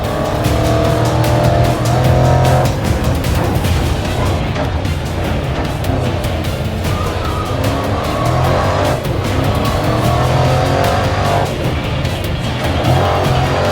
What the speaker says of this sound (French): Accident pour notre deuxième voiture.